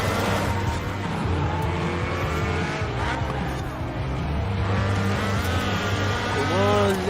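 A Ford Escort racing a final lap in Forza Horizon 4, engine droning and revving steadily with rising pitch sweeps and tire noise, loud and continuous throughout.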